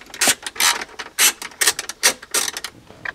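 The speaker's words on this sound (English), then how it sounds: "next we'll remove these two 10 millimeter bolts that hold our ignition switch in" A ratchet wrench backs out the 10 mm bolts securing the ignition switch on a Chevy Monte Carlo or Impala, giving loud, close bursts of rapid clicking in several quick strokes with short pauses between, no talking.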